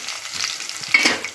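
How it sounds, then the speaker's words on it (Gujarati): Tempering for an okra vegetable curry sizzles in a pan, a close, bright frying hiss with a brief stirring scrape and a louder burst near the end. "શાકનો વઘાર મારી દીધો છે આપણે."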